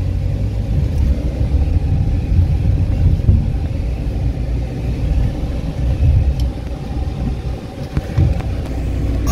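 A SsangYong Rexton diesel with a manual gearbox drives along, its engine giving a loud, steady low rumble from inside the cabin with no talking.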